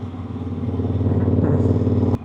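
A Triumph Bobber motorcycle's exhaust rumbles steadily up close with a loud, throbbing low idle and some rattling, then cuts off abruptly with a sharp click.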